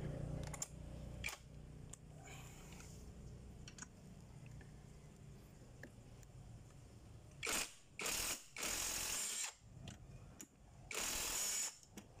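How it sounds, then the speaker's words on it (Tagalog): Wrench loosening a 14mm bolt on the side stand of a Honda BeAT Fi scooter, quiet scattered metallic clicks and ratcheting with a few louder bursts of rattling near the end. "ito yung 14mm natin na bolt. So, tatanggalin nyo lang yan."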